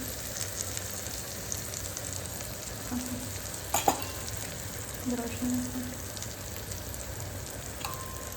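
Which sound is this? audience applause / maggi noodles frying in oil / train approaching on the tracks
maggi noodles frying in oil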